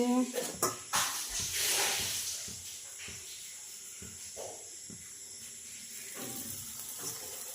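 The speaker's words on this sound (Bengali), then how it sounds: "এই দেখো লুচি ভাজা হচ্ছে" Luchi deep-frying in hot oil gives a loud sizzling hiss with crackling bursts, rising and falling, mixed with kitchen clatter and voices nearby.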